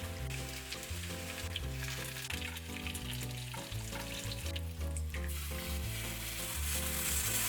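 Fenugreek and crushed chillies fry in hot oil for a Kerala wolf herring curry, a steady close sizzle running throughout with a melodic tonal background layered underneath.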